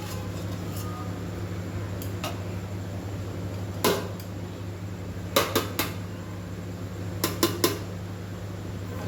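Metal pots and lids clank in a home kitchen while rice cooks, with a few sharp taps and clatters as a lid is set on a cooking pot over a low steady hum.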